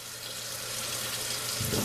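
Cool tap water runs into a salted pot for cooking spaghetti, a loud, steady gushing splash that deepens slightly as the pot fills.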